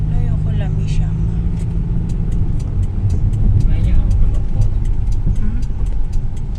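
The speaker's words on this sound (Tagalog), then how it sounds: "Ayan ang jeep nila dito, guys. Saan naman kaya nila ilagay ang sasakyan?" A jeep's engine rumbles close by at a steady low level as the vehicle is moved into position, with a faint rhythmic ticking above it and people talking nearby.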